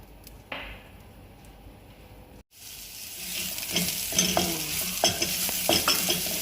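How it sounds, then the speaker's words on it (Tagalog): After a brief quiet stretch and a cut, loud sizzling erupts as tomato sauce with garlic and ginger is sautéed in a pan, crackling steadily as it is stirred close by. "Gigisa na natin yung tomato sauce para sa ating masbos laham"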